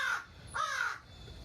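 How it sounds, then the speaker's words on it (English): A crow calls outdoors with two harsh, drawn-out caws in quick succession, fairly close and clear against a quiet background. "and maybe even a talking crow."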